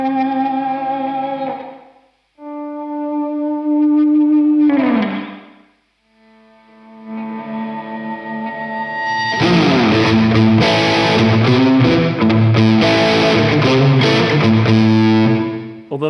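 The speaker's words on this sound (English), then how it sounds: "Although that sounds like a room reverb." An electric guitar plays through an amp with reverb, giving a room-like tail. Single sustained notes and swells ring out and decay, then dense, distorted chords follow with a washy ambience.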